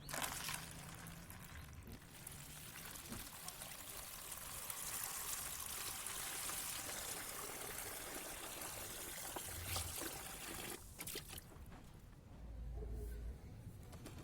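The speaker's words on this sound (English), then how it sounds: "So now I'm again adding 5 liters of water." Five liters of water poured steadily into a homemade liquid fertilizer mix containing mustard cake, a continuous trickling stream running close by for most of the stretch.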